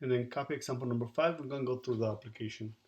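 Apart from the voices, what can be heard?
No everyday noises stand out.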